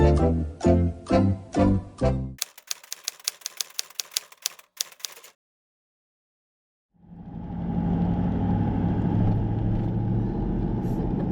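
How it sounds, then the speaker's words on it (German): Typewriter-like clacking and rapid ticking first, then a short silence, after which a repaired car's engine starts and drives off with a steady rolling rumble. "Das Auto ist jetzt fertig und wir sind jetzt losgefahren"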